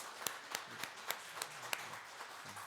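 A handful of separate hand claps from a church congregation at a Sunday service, at a steady, loose rhythm, fairly faint in a roomy space, with no talking.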